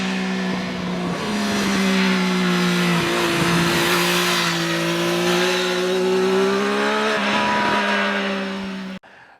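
A 2021 Triumph Daytona Moto2 765 three-cylinder engine revs hard through its exhaust, close and loud, the pitch rising and falling over several seconds before stopping abruptly.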